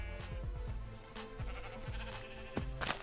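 Sheep in a video game bleat several times in quick succession, close and clear, with game sounds layered around them and no talking.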